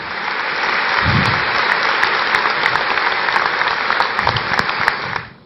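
A church congregation applauds in praise during a sermon, a loud continuous wash of many hands clapping that holds steady for several seconds before fading at the end, no voices.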